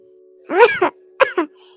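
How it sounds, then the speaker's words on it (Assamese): Two short, close coughs, each a quick pair of rough bursts, separated by a brief pause in an otherwise quiet room. "এই ৰাতিপুৱা কাম কৰি মোৰ যে একেবাৰে কাহটো লগ নেৰাই হৈছে"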